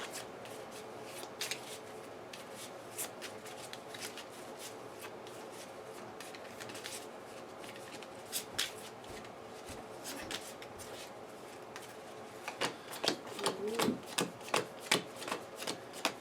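Marvel Champions cards hand shuffled in repeated riffling bursts, quiet and close at first, then quicker, crisper shuffles toward the end.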